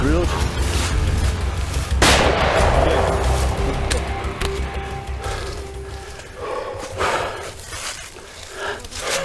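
Gunfire during a buffalo hunt, a loud close boom at the start followed by ringing and outdoor noise, with people talking.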